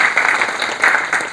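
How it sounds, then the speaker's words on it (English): A seminar audience claps briefly in a steady, dense patter of applause, close and moderately loud, with no one speaking over it. "We should welcome Snehal Batra with a round of applause"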